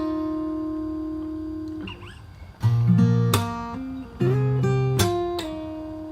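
Fingerstyle acoustic guitar with a percussive slap plays a riff, with sliding notes and sharp slap accents breaking through sustained chords, close and clear with no talking.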